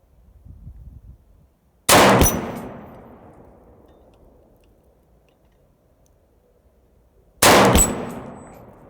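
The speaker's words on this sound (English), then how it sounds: "And you can really hear that steel core hit that plate." Two loud, sharp rifle shots with metallic clangs of steel-core bullets hitting an 8-inch steel target plate, spaced several seconds apart, each trailing off in a long ringing echo over quiet low rustling.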